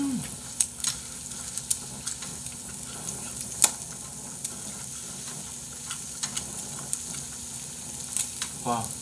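Meat grilling at home, a continuous close sizzle with scattered sharp pops and crackles, and a brief voice near the end.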